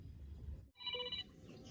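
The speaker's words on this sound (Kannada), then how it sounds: "ಮುತ್ತು ತಮ್ಮ ಫೋನ್ ಮಾಡಿದಪ್ಪ" A mobile phone rings with an incoming call indoors, a short electronic ringtone burst of bright repeating tones that starts after a brief dip in the background hum and fades out after about half a second.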